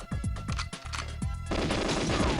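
Rapid bursts of gunfire from the video game GoldenEye, several sharp shots in quick succession followed by a dense, crackling volley, loud and close with no talking.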